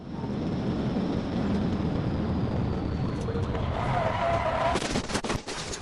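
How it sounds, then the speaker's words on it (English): A car racing at high speed in a police chase, its engine and road roar loud and sustained, ending in a rising whine and sharp scraping bursts near the end. "he accelerated once again, driving at a high rate of speed"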